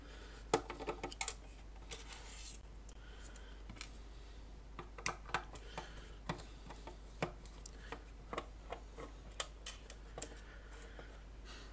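Small screws being removed from a cheap DJ mixer bought in the 2000s, heard as quiet, scattered ticks and clicks of a screwdriver and loose screws, with faint background hiss.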